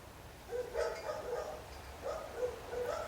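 A neighbor's dog barking outdoors at a distance, a string of faint repeated barks spread across the moment over quiet ambient noise.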